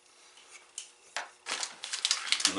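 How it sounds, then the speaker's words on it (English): A plain craft knife cuts through laminated material with soft scratchy strokes that build into a quick run of close, crisp scraping clicks toward the end. "I'm going to go ahead and use just my plain old craft knife"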